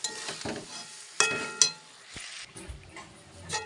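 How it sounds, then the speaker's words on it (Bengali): Lentil dumplings being stirred in a pan with poppy seed paste, soft intermittent frying hiss with scraping stirs and two sharp metallic clinks of a spoon against the pan. "এবার এটা হচ্ছে বড়ি দিয়ে দিয়েছি, দেখুন নেড়ে নিচ্ছি।"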